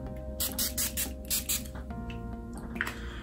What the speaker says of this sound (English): So I like to use my setting spray before I put on any highlight